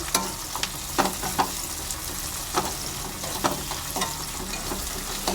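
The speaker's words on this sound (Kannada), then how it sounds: "ಈರುಳ್ಳಿ ಎಲ್ಲ ಫ್ರೈ ಆಗ್ತಾ ಇದೆ. ಇವಾಗ ಸ್ವಲ್ಪ ಶುಂಠಿ ಬೆಳ್ಳುಳ್ಳಿ ಪೇಸ್ಟ್ ಹಾಕ್ಕೊಳ್ಳೋಣ." Onions frying in a pan with ginger garlic paste for a South Indian egg curry, a constant dense sizzle with occasional soft spoon scrapes, close and steady, no voices.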